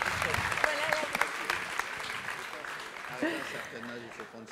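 Applause from an award-ceremony audience greeting a prize winner, a steady dense patter of many hands sustained throughout, with a voice speaking briefly over it.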